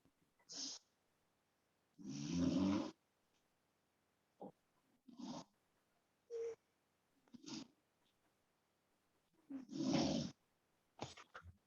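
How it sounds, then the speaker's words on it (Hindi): A student asleep in a classroom during a math lesson snores in slow, rough, repeated breaths spaced a few seconds apart, moderately close, with no talk over them. "बेटा ये कौन खर्राटे मार मार के सो रहा है भाई"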